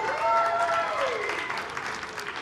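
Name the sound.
church congregation clapping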